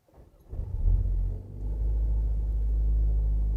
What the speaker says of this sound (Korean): 살짝 그 팝콘이 터지는 그런 퍼포먼스 배기가 살짝 더 나옵니다.